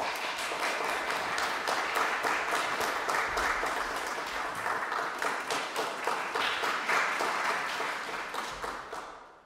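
A masterclass audience claps steadily together at a saxophone summer festival, a loud sustained wash of many hands in a rhythmic beat that keeps going for several seconds before tapering off at the end.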